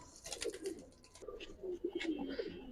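Several Silver Giribaz pigeons give low, throaty coos in overlapping bursts, close by, with some brighter rustling or chirpy noise above, and no one talking.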